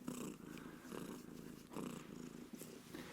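A cat purring steadily and close up, a low continuous rumble with soft pulsing swells, quiet and intimate with no talking.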